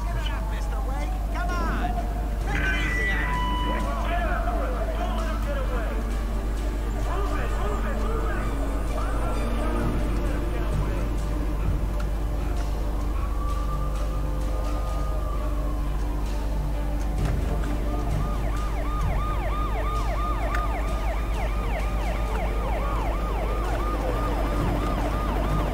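Police sirens wail through a chase in the video game Alan Wake, rising and falling over a steady engine drone and game noise, while a voice talks over the scene.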